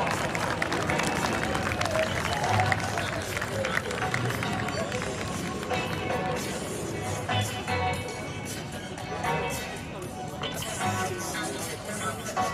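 Spectators at the Melun Air Legend 2023 air show applaud the Patrouille de France's crossing manoeuvre, the steady clapping spread across the crowd under an announcer's amplified voice.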